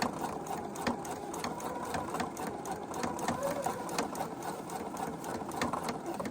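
A sewing machine stitches a pant hem with matching needle and bobbin thread, running in a fast, even mechanical chatter at close range, moderately quiet and steady throughout with no pauses.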